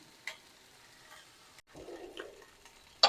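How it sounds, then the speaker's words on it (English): Vegetables for salsa verde roast in a hot pan with a soft, crackling sizzle that swells after a brief pause, fairly faint and close, with a few clinks of handling. "Listen to that beautiful sizzle."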